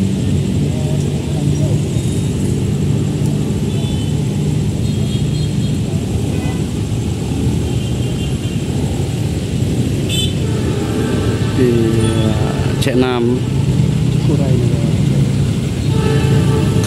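The Cikurai passenger train, a railway service in Indonesia, passes by as a steady, loud rumble throughout, with squealing tones near the end. Voices talk over it.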